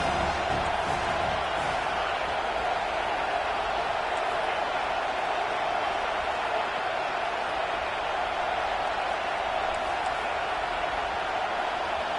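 A home stadium crowd roaring in the NCAA 25 college football video game on a third down, a steady wash of distant cheering that holds level the whole time.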